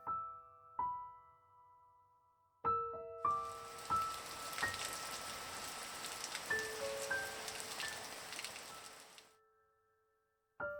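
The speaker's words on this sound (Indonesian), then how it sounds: "Malam itu hujan turun cukup deras." Heavy rain pours down at night, a dense steady hiss that swells in after a few sharp knocks and runs loud for several seconds before easing off, with faint tones ringing through it.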